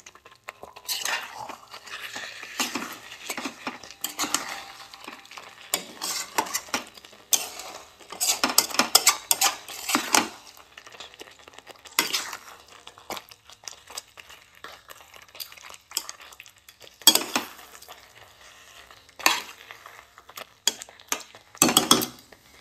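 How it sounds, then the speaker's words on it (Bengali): Large chicken leg pieces are stirred into spice masala in a pan, giving repeated bursts of spoon scraping and metal clinks separated by short pauses. "নাড়িয়ে একটু মশলার ভেতরে ঢুকিয়ে দেবো"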